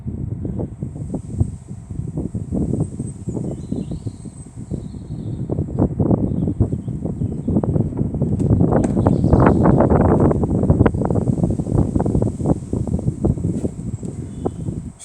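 Wind gusts across an open hillside where tall seven-foot fence panels are being fitted, a steady loud rushing and buffeting with rustling and occasional knocks throughout.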